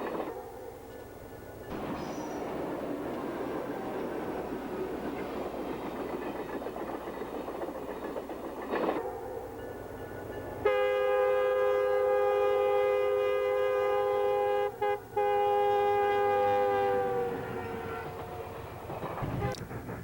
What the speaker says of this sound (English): Let's take a look at some of the HO displays now with some real rail sounds.